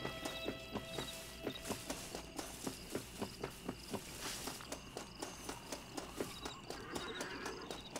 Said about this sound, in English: Do I hear a horse?